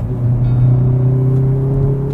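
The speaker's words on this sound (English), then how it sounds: "The T-GDI engine is a turbocharged 2-litre inline 4-cylinder." A Hyundai i30 N's turbocharged 2-litre inline four-cylinder engine runs with a steady low, throaty rumble and an even mechanical drone, loud and close, with no talking.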